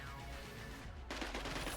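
Gunfire in the tactical video game Cyber Knights: Flashpoint, a faint burst of shots that swells into a louder crackling volley near the end, with no talk.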